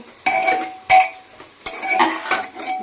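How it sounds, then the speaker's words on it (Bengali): Dalia khichuri being stirred in a metal pot, with a utensil scraping and clinking against the sides in irregular strokes, close and fairly loud, with no voices. "দেখুন একবার নাড়িয়ে চাড়িয়ে নিচ্ছি"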